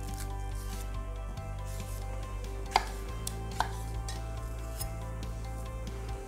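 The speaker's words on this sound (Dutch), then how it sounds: "Die bananen snijden we in plakjes." Knife slicing two ripe, spotted bananas into rounds, with a few soft cuts and two sharper taps against the board over a steady low kitchen hum.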